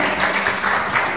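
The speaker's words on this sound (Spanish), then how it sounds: "Un aplauso para esta belleza." Brief burst of audience applause on a Spanish-language TV talent show, a dense steady patter of clapping heard for about a second with no speech.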